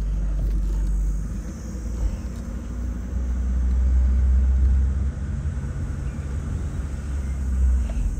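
An Opel Ascona convertible with a manual gearbox runs with a smooth, steady low engine rumble heard from inside the car on the move, with no talking.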